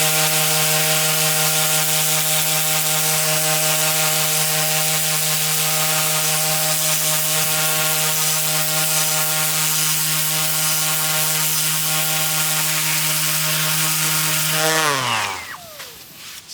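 Grinding the cast face of a Craftsman 6 inch jointer during restoration gives a loud, steady, buzzing whine with a strong pitched tone that holds for about fifteen seconds, then winds down and cuts off.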